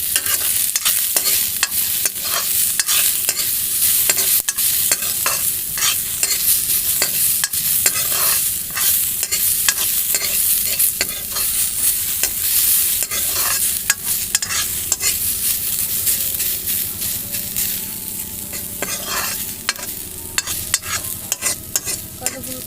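Oil frying for a boiled jackfruit bhorta, a loud continuous sizzle broken by frequent sharp scrapes and clatters of a spatula stirring against the pan throughout.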